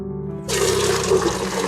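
Pasta water being poured off and drained, a sudden rush of flowing water starting after a quiet moment and continuing steadily, close and loud with no talk.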